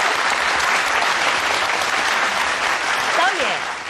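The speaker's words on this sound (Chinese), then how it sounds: "再掌声鼓励一下" An audience at a 2010 televised interview claps steadily and loudly throughout, with a brief voice showing through toward the end.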